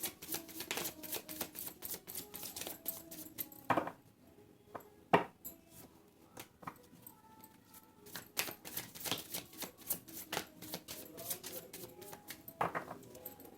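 Tarot cards being shuffled give quick bursts of papery riffling and clicking snaps, coming in uneven clusters with short pauses between, close and fairly quiet with no voices.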